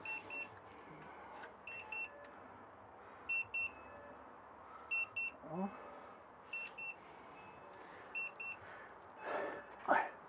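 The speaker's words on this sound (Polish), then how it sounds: "już alarm, bo temperatura spadła" Short repeated electronic beeps from a smokehouse thermometer's temperature alarm sound in evenly spaced bursts of two or three, set against a quiet outdoor background with brief rustling.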